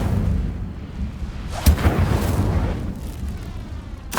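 The Incendio fire spell in Hogwarts Legacy bursts out as a deep, roaring, explosive blast of flame, rumbling continuously with a sharper crackling surge partway through.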